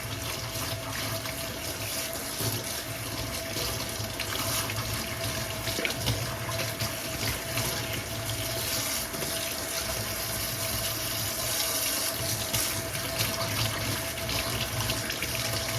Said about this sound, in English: So I'm giving it a good rinse under the water and get the filter nice and clean.